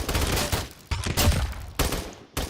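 Gunshots from Roblox gamepass weapons, a few loud sharp shots separated by short gaps, close and clear.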